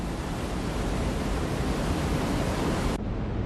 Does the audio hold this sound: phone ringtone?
no